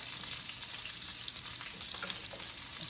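Garlic searing in a hot pan during home cooking gives a steady, close, even sizzle that holds for the whole stretch, with no talking over it.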